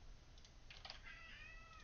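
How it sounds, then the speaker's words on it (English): Weak, plaintive meow from a cat, rising and falling once over soft computer keyboard clicks in a quiet room, faint and close by. "I hope you guys can hear just how pathetic that meow sounds"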